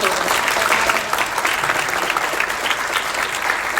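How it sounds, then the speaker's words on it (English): Steady, dense applause from a crowd at a town hall in Waverly, Iowa, sustained at an even level throughout with no pauses. "We have a round of applause for Angela."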